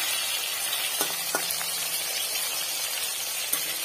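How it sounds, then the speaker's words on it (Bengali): Pieces of silver fish fry in hot oil with a steady, close, even sizzle, broken by a few soft clinks from a spatula or the pan. "এইভাবে মাছগুলো ভেজে নিচ্ছি, আস্তে আস্তে করে লাল করে একটু ভেজে নেবো।"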